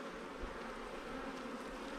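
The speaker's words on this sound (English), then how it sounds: "there's a wasp here" A steady insect buzz of a wasp near a beehive frame, continuous and moderately close, with no speech.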